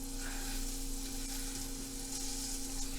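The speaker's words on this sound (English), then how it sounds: "I'm heating a pan with a little avocado oil and butter, and I'm going to just fry a couple cubes" Cubes of beef (country style ribs) frying in a pan with avocado oil and butter, a close, steady, even sizzle with no talking.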